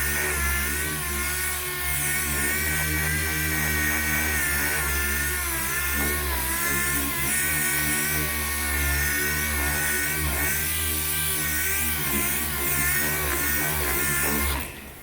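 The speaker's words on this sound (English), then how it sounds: "We're going to sand it down with 320 grit." A car body panel is sanded with 320 grit sandpaper ahead of polyester glazing putty, giving a loud, continuous, steady abrasive whir that holds for the whole stretch with no speech over it.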